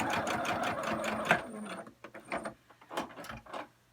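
Sewing machine running a straight stitch along the bottom edge of a fabric surgical mask, a steady close mechanical whir for about a second and a half before stopping, followed by a few scattered clicks and handling noises.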